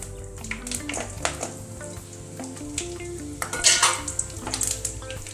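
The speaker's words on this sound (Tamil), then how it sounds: "எண்ணெயில் போட்டுட்டு தட்டி வச்ச உப்பு கண்டத்தை அதில் போட்டுக்கலாம்." Pounded salted dried meat (uppukandam) frying in hot oil with fennel and other spices, giving a steady close sizzle and crackle. Clinks of a utensil against the pan and a louder, brighter burst of frying near the end.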